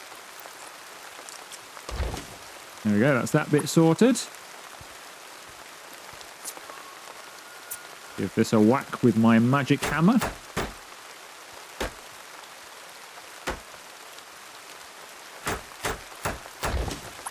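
Pouring rain patters steadily at an outdoor park path while someone talks and hammers at a fitting, the even rain hiss running under his speech and a series of sharp knocks.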